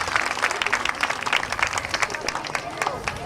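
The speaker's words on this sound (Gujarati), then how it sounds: "તાળીઓના ગડગડાટથી વધાવી લેશો" A crowd at a Sharad Poonam Garba festival gives steady, lively applause that goes on the whole time, with voices and general crowd murmur mixed into the clapping.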